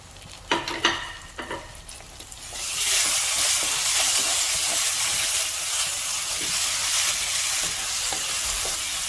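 Tomato puree goes into a hot pan and sets off a loud, steady sizzle with hissing steam that runs to the end, after a few brief clinks and stirring knocks at the start.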